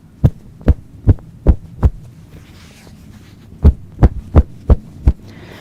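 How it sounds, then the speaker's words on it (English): Woven fabric pulled taut and snapped sharply along the warp and the weft, giving five crisp, evenly spaced snaps, a pause of about two seconds, then five more, loud and close with no talking. "There's a higher noise on the warp than it is on the weft."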